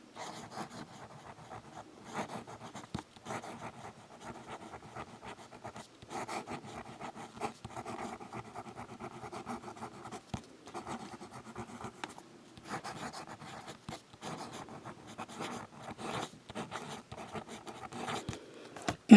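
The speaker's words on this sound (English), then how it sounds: "Fast writing." A Waterman 92V fountain pen writing fast on paper, a close, soft scratching that runs in quick irregular strokes with short pauses between words.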